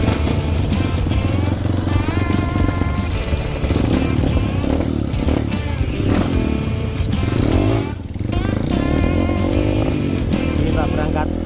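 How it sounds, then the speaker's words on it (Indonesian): Honda CRF motorcycle ridden on the way to a waterfall, a loud close engine drone running continuously with shifting revs and rattling, while voices talk over it. "Dipinjami motor CRF."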